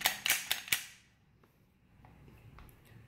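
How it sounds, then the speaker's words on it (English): Press check on an FN 509 pistol, a quick run of four sharp metallic clicks from the slide close by, followed by quiet handling noise. "You can do really easy press checks."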